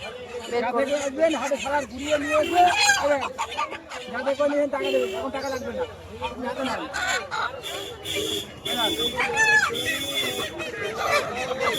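Local desi roosters and hens at a village market, clucking and crowing close by amid crowd babble, with people talking over the birds throughout.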